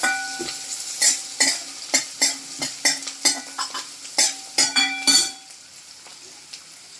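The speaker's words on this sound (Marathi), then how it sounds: "त्याच्यामध्ये आपण कांदा परतून घेणार आहोत. कांदा छान ब्राऊन होईपर्यंत परतायचा आहे." Onion sautéing in oil with fried green chillies in a pan, a spoon scraping and stirring in repeated quick strokes over a soft sizzle, close up, with the stirring stopping near the end.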